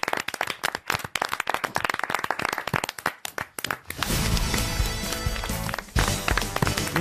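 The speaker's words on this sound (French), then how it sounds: "On vous applaudit." A radio comedy show's studio audience breaks into applause, first as sharp, scattered individual claps, then swelling into a dense, sustained ovation with a musical jingle rising beneath it.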